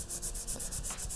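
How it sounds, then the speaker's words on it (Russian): A pastel crayon rubs back and forth across paper in quick, regular scratchy strokes, close and fairly loud, about eight strokes in a steady rhythm. "Замечательный звук материала по бумаге."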